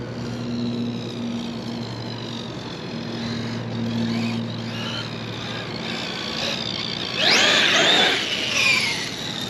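A Traxxas X-Maxx RC truck drives in a park with a steady electric motor whine, rising into a louder, sweeping burst near the end as it accelerates.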